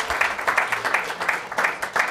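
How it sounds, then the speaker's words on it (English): An audience applauds an alumni panel at a spring alumni weekend, a steady crowd of clapping hands at moderate loudness filling the whole moment with no voices over it. "can we just give one more round of applause for our awesome panel?"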